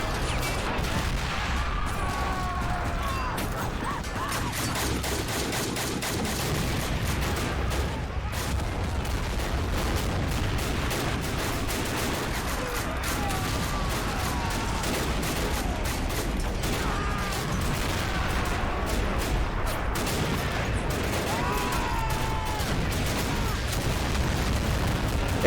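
Dense, continuous gunfire and explosions in a trench battle in the video game Army Men: Desert Rats, Gallipoli trench defence, with rapid overlapping shots and booms sustained loudly throughout.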